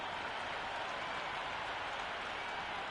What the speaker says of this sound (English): The crowd are making a heck of a lot of noise even before the first ball's been bowled